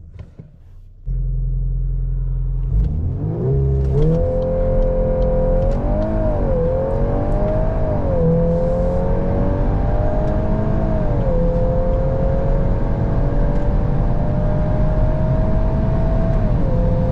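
A 2023 VW Golf R with a DSG gearbox launches hard under launch control, its engine surging loud and close as it climbs steadily through several quick gear shifts, with no talking.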